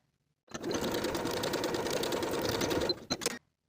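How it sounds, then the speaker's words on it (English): A sewing machine edge stitches along the folded bottom hem of a denim skirt in one steady, close burst of about two and a half seconds, followed by a short second spurt before stopping. "Edge stitch along the inner bottom fold from one side to the other"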